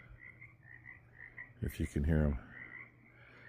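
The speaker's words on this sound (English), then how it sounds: "And the frogs." Frogs croaking at night near a farm barn, a short burst of a few rapid croaks standing out over a faint steady insect hum, with a quiet voice.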